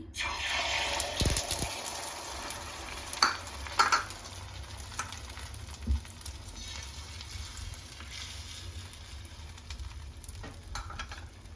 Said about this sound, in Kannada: ಇವಾಗ ಇದ್ರೊಳಗಡೆ ಮಿಕ್ಸ್ ಮಾಡಿ ಇಟ್ಕೊಂಡಿರೋ ಎಗ್ನ ಹಾಕೊಳ್ತೀನಿ